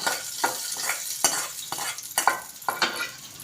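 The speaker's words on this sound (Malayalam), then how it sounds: "അപ്പോൾ കടുക് വറുത്തത് കണ്ടോ നമ്മുടെ കറിയിലേക്ക് ഒഴിച്ചു." Fried mustard seed tempering tipped into a green tomato curry, a close sizzle broken by about six sharp spoon taps and scrapes against the pan at a steady pace.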